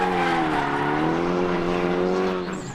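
A drift car's turbocharged engine screams at high revs in a street drift event, with a steady harmonic whine bending slightly and a brief blow-off valve hiss near the end, close and loud.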